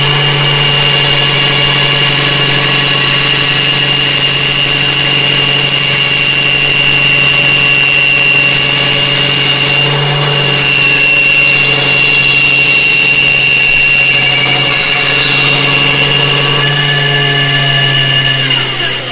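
A loud power tool runs continuously while trimming pieces of wood in a workshop, its steady whining drone holding nearly unchanged throughout with only slight changes in pitch and load.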